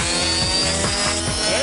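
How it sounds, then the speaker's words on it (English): A high-pitched dental air turbine whines steadily throughout, with a sustained shrill tone over a buzzing mechanical drone and rhythmic lower pulsing. "Air turbine. I'm not sure how fast it's going, but it's awful fast."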